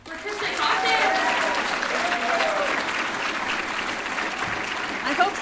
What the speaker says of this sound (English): Can we get one more round of applause for Kristan Hawkins?